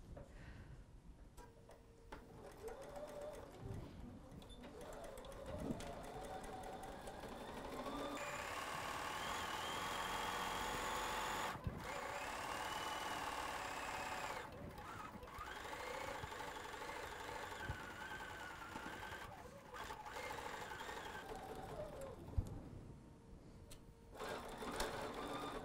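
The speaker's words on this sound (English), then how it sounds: "Let's go ahead and just sew down the other side as well." A sewing machine runs steadily, stitching a fabric seam on a travel pillowcase, its fast rhythmic whir rising and falling in pitch across several long bursts with brief pauses, close and clear.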